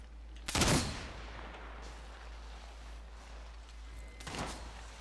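Two short bursts of gunfire from Apex Legends gameplay, the first loud and crackling, the second a few seconds later and a little softer, with low background noise between them.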